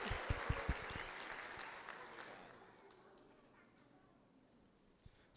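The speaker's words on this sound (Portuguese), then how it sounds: "Uma salva de palmas para o diácono." Congregation applause inside a church after a Catholic service, a few sharp claps up front fading quickly into a quiet, diminishing patter, faint and distant by the end.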